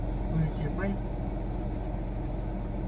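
A car's engine hums continuously at moderate distance as the vehicle moves along a rural road at night. People talk quietly over the steady drone.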